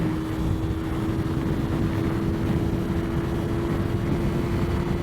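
A 2020 Yamaha R3 300 cc motorcycle cruising on the highway, its engine holding a steady, loud drone under a constant blanket of wind rush with no letup.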